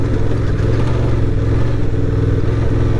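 A 2024 Honda Transalp adventure motorcycle ridden off-road on soft ground, its engine droning steadily and loud throughout with a low rumbling growl and some rattling clatter, no voices.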